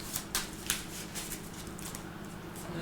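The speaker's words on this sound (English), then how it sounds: "So we'll shuffle these." Playing cards for a Marvel Champions card game being shuffled up close, with a few sharp riffling bursts early on followed by softer continuous rustling and shuffling.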